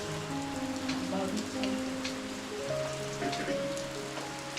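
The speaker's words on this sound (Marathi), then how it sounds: "अखेर शेवटी पावसाचं आगमन झालेलं आहे कोकणात. बघा मस्त वाटतंय शांत आणि पाऊस." Steady monsoon rain in Konkan patters on a surface, a constant soft hiss with scattered drops, while tonal hums and faint background sounds linger underneath.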